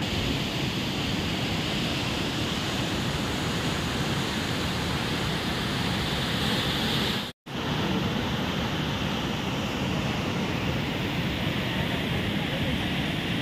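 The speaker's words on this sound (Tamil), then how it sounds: "நம்ம ஜாகினி ஃபால்ஸ் வந்தாச்சு" Jogini waterfall near Manali roars as a loud, steady broadband rush of falling water, close and continuous, with a brief dropout partway through.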